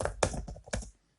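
Quick keystrokes on a computer keyboard while filling in a dispute form online: about four close, crisp clicks in a short burst, then silence.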